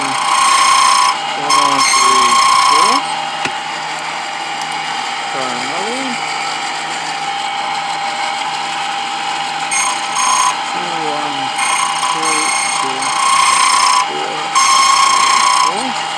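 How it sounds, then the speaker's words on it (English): A key cutting machine cuts a Freightliner truck key, giving a steady high-pitched mechanical whine with short pauses and bursts as the blade moves across the cuts. The machine is close and loud. "So then what I'm going to do is I'm just going to cut this key real quick"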